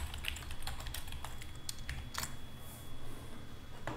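Quick clicks from a computer keyboard as a vector is typed in, with light, irregular keystrokes that come in short bursts and small pauses. The sound is close but quiet, and no one is speaking.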